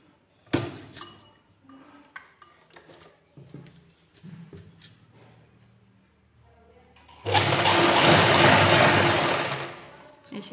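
Sewing machine stitching a waistband belt onto an Afghani salwar, a loud steady whirring run of about three seconds at the end, after several seconds of quiet handling clicks and rustles.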